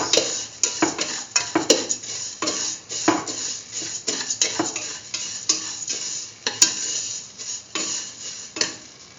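A utensil stirs and scrapes vermicelli and sugar in a pan as they sauté, giving repeated clinking and scraping strokes with a faint sizzle underneath, close and steady throughout.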